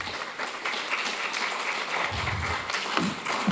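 Audience applause at a Slovenian panel event on genetically modified versus sustainably grown food, a steady dense clatter of clapping from a crowd filling the room, with a few louder individual claps near the end.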